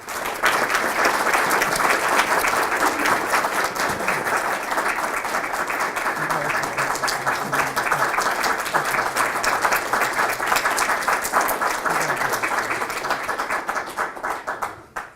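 An audience at a hall of fame induction ceremony applauds an inductee, sustained dense clapping filling the room for about fifteen seconds before tapering off at the end.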